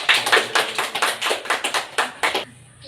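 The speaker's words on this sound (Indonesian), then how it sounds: "berikan aplaus kepada kita semua dari kita" A classroom group claps in applause: a quick, steady run of about a dozen sharp, close hand claps that stops abruptly after two and a half seconds.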